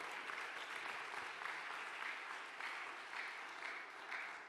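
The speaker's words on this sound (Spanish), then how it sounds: "Dale el aplauso." Sustained applause from an audience at a talk, an even wash of clapping that carries on throughout, heard at low level and without speech over it.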